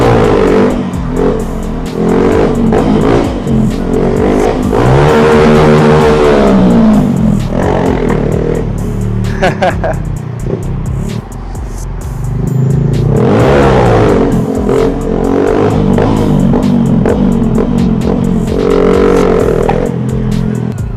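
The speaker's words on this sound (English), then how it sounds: "I wonder if I do a rev bomb, if it's going to be loud against this wall." Honda MSX 125 Grom stunt bike doing a rev bomb beside a wall, the small engine revving hard in repeated rising and falling surges, loud and close, echoing off the wall for about twenty seconds with no talking.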